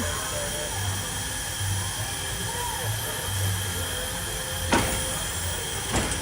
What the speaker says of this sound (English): this is a coal-powered steam engine train.